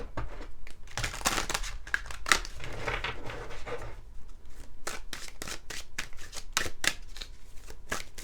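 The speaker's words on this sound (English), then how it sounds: "We're also going to draw a card, we can move these down here, from" Tarot or oracle cards shuffled by hand at close range, a run of crisp riffling flutters followed by a quick series of sharp, evenly spaced card slaps, loud and alone without talk.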